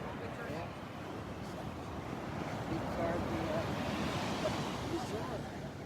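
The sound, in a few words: Gulf of Mexico waves on the beach at Naples, Florida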